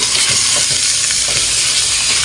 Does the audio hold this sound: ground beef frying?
yes